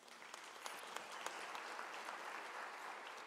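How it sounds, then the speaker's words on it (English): At a University of South Africa autumn graduation ceremony, the hall gives a round of applause, a steady, even patter of many hands heard quietly and at a distance for several seconds. "I think she deserves a round of applause."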